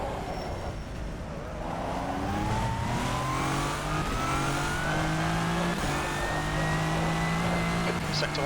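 A hypercar in the rFactor 2 racing game revs hard through the gears, its engine pitch climbing steadily with shifts and sustained high-rpm drone at close range over faint tire noise.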